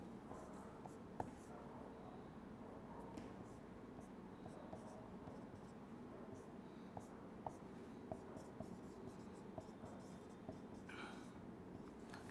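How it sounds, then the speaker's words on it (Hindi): Examples being written on a board during a chemistry lesson, with faint scratchy pen or chalk strokes and small taps repeating over a quiet room tone. "कुछ और एग्जांपल्स को चलो फटाफट लिखते हैं।"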